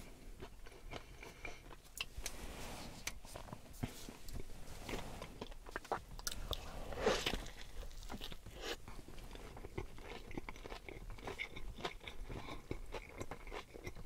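Chewing and crunching of Taco Bell food eaten close-up in a car, ASMR style: steady wet mastication with crisp crunches and bites, loudest near the middle, with no talking.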